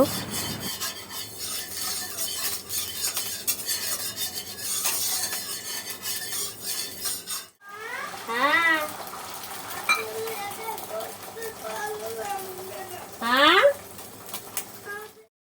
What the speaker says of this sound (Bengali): তো ওর জন্যই ডিম ভাজছি একটাই ভাজলাম